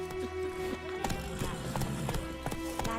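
Roach the horse gallops in The Witcher 3 video game, a steady run of hoof clip-clops over a music bed, with faint voice-like sound in the mix.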